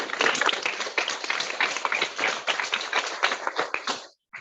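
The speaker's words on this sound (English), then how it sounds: "thank you for clapping for every candidate" An audience at a District 17 legislative town hall claps for a candidate in a dense, sustained round of applause that fills the room and stops suddenly at the end.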